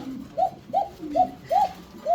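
Fancy pigeons at a farm coo in a steady series of five soft, rising calls about every third of a second, close by and alone.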